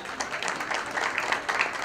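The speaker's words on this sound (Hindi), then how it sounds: "मैं चाहूंगा दोस्तों एक बार जोरदार तालियों की गड़गड़ाहट हो जाए" Thunderous audience applause at a stage event, a dense steady wash of clapping filling the space evenly throughout, loud and sustained with no voices on top.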